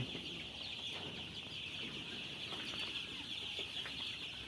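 Sonali chicken chicks on a farm make a steady, dense chorus of chirping and clucking throughout, close and continuous with no talking.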